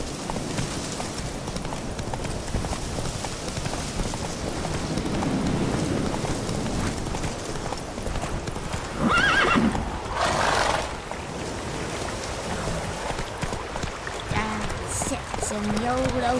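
Roach the horse galloping in The Witcher 3 video game, rhythmic hoofbeats with a loud whinny partway through, all heard under someone talking.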